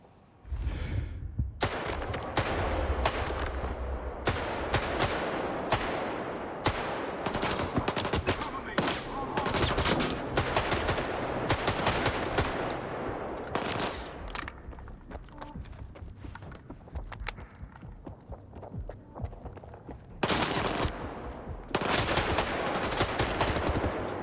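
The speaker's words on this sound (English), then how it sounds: "So I'm going to take a shot at the guy, and I'm going to kill him" Gunfire in the video game Stalker 2 on PS5 Pro: loud, dense volleys of shots and rapid automatic bursts crackle almost continuously, broken by brief lulls.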